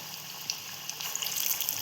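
A constant bright sizzle of egg pakoras frying in hot oil in a kadai, with small crackles and pops scattered throughout.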